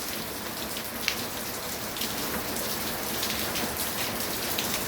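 Strong rain pours steadily onto flat, shallow-angled solar panel carport roofs, a dense continuous hiss of drops drumming on glass with no voices.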